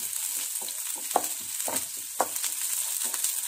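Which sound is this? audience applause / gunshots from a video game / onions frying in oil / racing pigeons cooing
onions frying in oil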